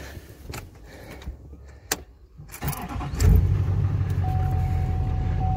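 A 2006 Duramax work truck fitted with a Boss snow plow is started: a few clicks and clunks, a cranking burst, then the diesel engine catches and settles into a loud steady idle with a faint whine above.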